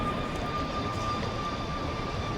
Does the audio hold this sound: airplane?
yes